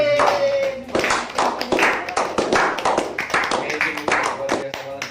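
A studio audience claps hands in a steady patter of crisp claps, with voices talking and reacting over the applause throughout.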